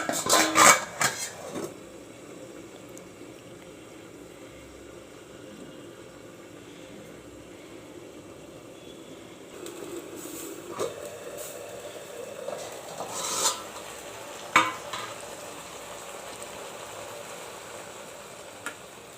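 A pot of potato, eggplant, tomato and pea curry with fresh coriander is covered with its lid: a few metallic clatters at first, then a long quiet stretch of low simmering hiss with faint scattered clinks later.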